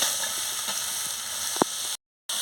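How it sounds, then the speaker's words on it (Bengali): Poppy seed masala fries with potol and potato in a pan, a steady close sizzle and hiss broken by one soft stirring knock before a brief cut of silence, with no talking. "মশলা মানে পোস্তটাকে ভেজে নিচ্ছি ভালো করে।"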